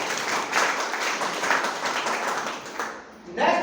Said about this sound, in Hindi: एक शानदार ताली हमारे।